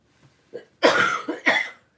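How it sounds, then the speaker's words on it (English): A few close, harsh coughs in quick succession, preceded by faint breaths, with no talking. "I'll be so glad when I get rid of this cough"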